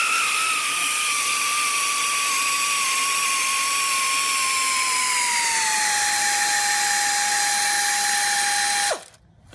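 Steady high-pitched whine of a power tool running continuously for about nine seconds, loud and close, as a 17mm socket loosens a bolt on a 1994 Toyota Land Cruiser during birfield joint work, cutting off abruptly at the end.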